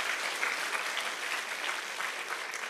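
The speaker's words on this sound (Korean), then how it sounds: "우리 박수 한번 쳐주시기 바랍니다" A church congregation at an autumn revival service applauds its young people, a dense, steady wash of many hands clapping together throughout, fairly distant and even, with no voices standing out.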